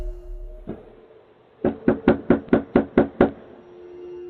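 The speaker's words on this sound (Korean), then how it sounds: "작업복을 입은 한 남자가 집에 찾아와 문을 두드리는데" A man in work clothes knocks on a house door, caught on CCTV: one early thud, then eight even, firm raps in a steady rhythm, with no talking.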